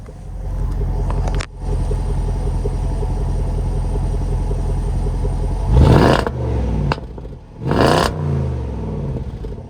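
Range Rover Sport 5.0 V8 of 510 horsepower idling with a steady deep rumble, then two sharp revs blipped near the end, each rising fast and falling back to idle, loud and close.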